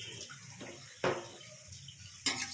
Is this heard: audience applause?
no